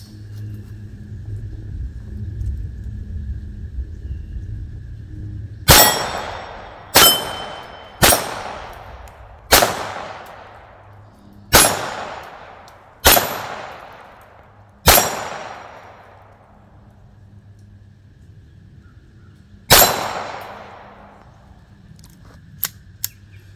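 Browning Buck Mark .22 pistol fired at steel targets: nine sharp, close shots with ringing decays, spaced a second or more apart, one later shot after a pause, then faint clicks.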